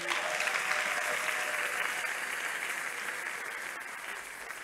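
A church congregation applauds steadily for several seconds, a dense, even wash of clapping filling the space, with faint voices mixed in.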